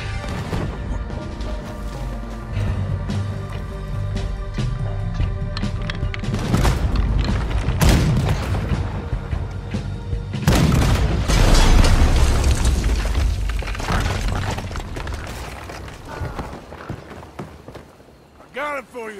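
Cannon fire booms during a Red Dead Redemption 2 ship battle, heavy blasts and crashes erupting in loud bursts amid chaotic action, gunfire-like cracks and shouting voices throughout.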